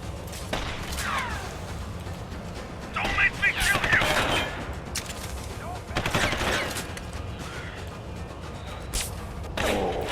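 Sniper gunfire from the video game Deus Ex: Human Revolution comes as several sharp, loud shot bursts spread over the stretch, set against a continuous game soundscape.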